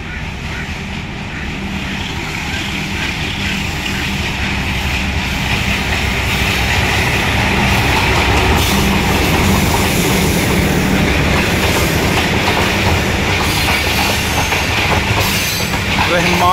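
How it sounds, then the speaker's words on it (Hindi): A train pulls into Golra Sharif railway station in Pakistan with a loud, continuous rumble of wheels and carriages and a squeal of wheels on the rails, close by and steady throughout. "ये ट्रेन आ गई है"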